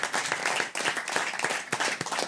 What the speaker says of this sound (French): Sous les applaudissements de la foule en délire